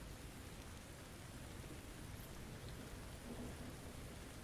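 Rain falls steadily in the video game Neither Day Nor Night, a dense, even hiss of drops on a surface that runs unbroken throughout, with no voices.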